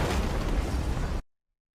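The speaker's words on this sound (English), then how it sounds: "Those looked too small and too close to be nuclear explosions" A dense, roaring burst from a video game nuclear bomb scene, loud and sustained for about a second before cutting off abruptly into silence.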